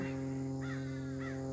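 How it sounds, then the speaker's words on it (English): Crows cawing in a few harsh calls, moderately distant, over a steady low hum, at a lake in a state park. "you can hear the birds behind me"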